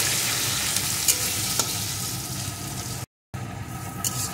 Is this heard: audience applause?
no